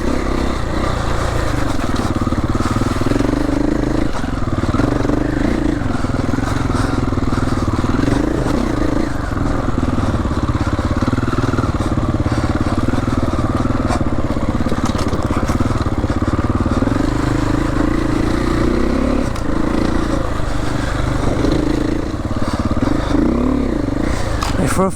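Triumph 450 Enduro motorcycle ridden off-road near Barcelona, engine loud and close throughout with constant revving that surges and dips, over clattering and scraping from the terrain.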